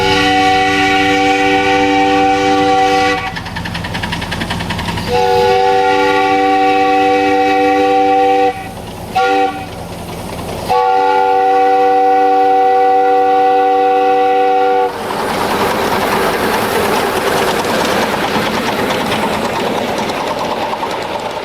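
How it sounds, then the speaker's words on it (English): A miniature train's horn at the Train Mountain layout sounds near and loud as a long, long, short, long pattern for a crossing, each note a steady chord with brief gaps between, followed by rumbling running noise. "you should sound your horn to indicate your approach. The proper pattern is long, long, short, long"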